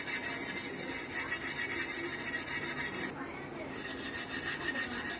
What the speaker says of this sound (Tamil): இந்த மாதிரி இப்போ நம்ம அழுத்தி கொஞ்சம் தேய்ச்சி எடுத்துக்கலாம்